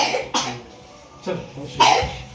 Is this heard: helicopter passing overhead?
no